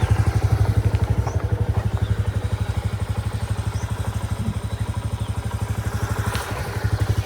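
A motorcycle engine idles close by, its rapid, even putter thumping steadily throughout with a faint clatter over it.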